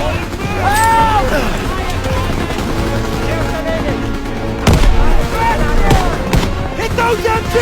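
Machine gun fire crackles through a Call of Duty WWII battle in the Hürtgen Forest, rattling amid booming blasts and shouted soldier voices, with loud bursts and impacts layered over a constant roar of combat.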